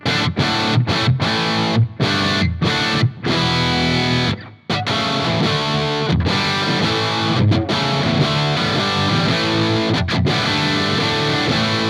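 Heavily distorted electric guitar played through two amps at once in a Slash style, loud and sustained, with chords and riffs broken by a few short choppy gaps and one brief pause partway through.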